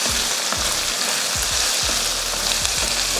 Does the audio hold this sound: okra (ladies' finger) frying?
yes